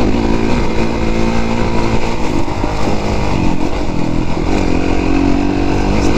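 Dirt bike riding hill trails, its engine a continuous loud, close buzzing roar with constant throttle variation and no pauses.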